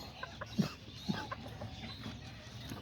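Farmyard rooster and hen giving a few soft, scattered clucks at close range, with two brief louder calls standing out over a quiet background.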